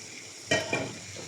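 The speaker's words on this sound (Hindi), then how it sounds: "और सारी चीज़ों को अच्छी तरह से भून लेंगे।" Chicken tikka cooks in masala and oil in a pan, with a faint background sizzle broken by a couple of quick stirring scrapes and clinks.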